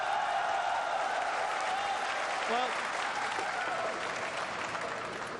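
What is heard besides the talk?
audience applause at a pool match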